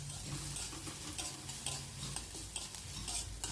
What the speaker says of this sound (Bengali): পেঁয়াজটাকে খুব বেশি ভাজার দরকার নেই।